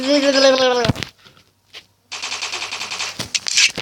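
Rapid bursts of automatic gunfire in the video game Block Strike crackle in short rattling volleys, separated by a brief quiet gap, with a voice speaking just before.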